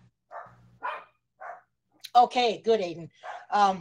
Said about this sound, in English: I apologize for my dogs out there. I don't know what they're barking at.